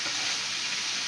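Chicken livers fry in hot grease, giving a loud, dense, unbroken sizzle up close with no talking.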